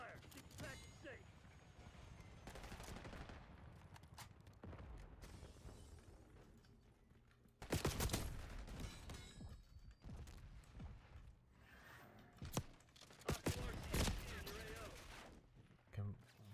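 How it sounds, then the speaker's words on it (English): A video game firefight mixes scattered gunshots and short bursts, some near and loud, others distant, with mechanical clatter and impacts. Radio-style voices and a player talk over much of it. "HVT is taking fire"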